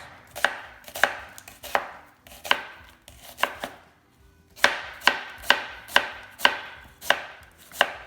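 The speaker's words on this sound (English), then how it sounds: "You gotta cut this in slices." A knife chops ingredients into slices on a board for kadai masala, about a dozen sharp cuts in loose groups with a short pause between, close and clear without speech.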